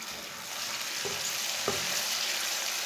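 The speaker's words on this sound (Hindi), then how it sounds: "टमाटर को भी 2 मिनट तक पका लेंगे।" Chopped tomato and green chili frying in a pan with a continuous loud sizzle, two brief clunks of a spoon against the pan partway through, close and with no talking.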